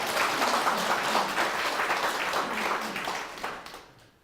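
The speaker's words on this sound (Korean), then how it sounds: "다짐하는 의미에서 또 박수 한번 쳐봐요." A crowd claps together in steady applause that gradually fades away over a few seconds.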